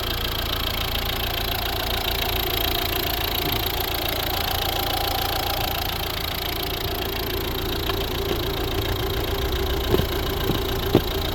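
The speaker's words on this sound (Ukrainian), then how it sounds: "Ось робота двигуна." A 2011 Volvo V60 1.6 D2 diesel engine, a Peugeot Citroën design, idles steadily with a low, even rumble and faint ticking, with a couple of brief clicks near the end.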